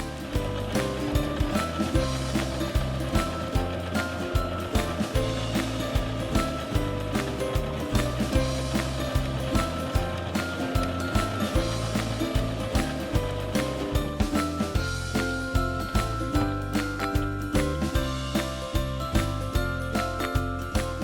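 A Singer Legacy C440 sewing machine stitching a project, a steady rapid mechanical clatter and whir running continuously and loud, with no voices over it.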